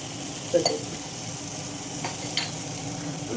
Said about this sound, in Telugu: ఇప్పుడు దీన్ని జాయిగా ఇలా కలిపేసుకోవాలి